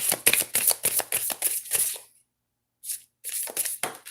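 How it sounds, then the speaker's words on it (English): Quick riffling flutters of oracle cards being shuffled by hand, a run of rapid bursts, a short silent gap, then more brisk shuffling close up. "And I know you see me shuffling here."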